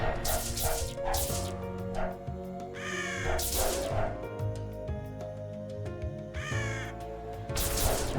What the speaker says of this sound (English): So many birds keep descending.